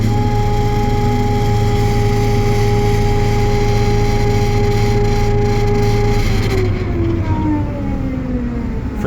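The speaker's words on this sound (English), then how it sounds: "you want to idle your engine down, disengage your rotor" The RM500 machine's engine running with its rotor engaged makes a loud, steady, droning mechanical roar with a constant hum, close by, then its pitch shifts slightly near the end as the load or speed changes.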